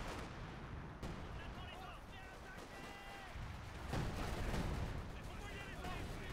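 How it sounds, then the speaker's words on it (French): Grenade blast and gunfire in a Company of Heroes 2 match, with sharp bursts near one and four seconds over a steady rumble of battle, while a voice commentates throughout. "Petite grenade qui est pas tellement efficace celle-ci."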